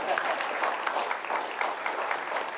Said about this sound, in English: Clap for him too.